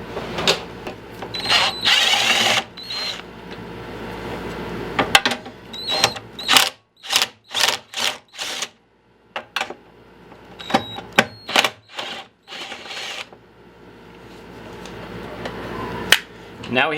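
Hand tools remove bolts from the top of a Craftsman push mower under repair, giving close, intermittent bursts of ratcheting clicks and metallic rattles separated by short pauses.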